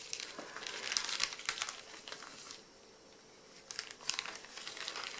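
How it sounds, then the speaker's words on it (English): Plastic crinkles and rustles close by in irregular bursts, pausing briefly before more crackling handling sounds resume. "I'll do this inside the plastic bag."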